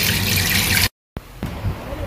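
Tap water runs and splashes loudly into a bowl of rice being washed in a home kitchen, then cuts out briefly before resuming with softer trickling and swishing.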